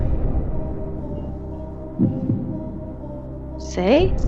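A heartbeat sound in a song plays as a low, steady throbbing hum at fairly loud level, with a short vocal-like tone rising near the end.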